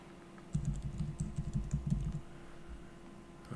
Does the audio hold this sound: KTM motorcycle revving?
no